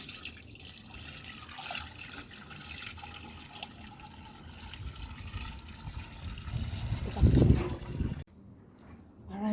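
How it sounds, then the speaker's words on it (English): Strained lemonade is poured into a jar, a steady liquid trickle and splash that builds louder and heavier toward the end before stopping abruptly, with faint background noise throughout. "So we're going to pour right into our jar."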